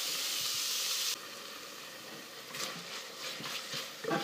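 Red curry paste frying in a pan for Malaysian laksa soup, giving a steady hiss that drops to softer crackling sizzle with scattered stirring clatter, close and alone.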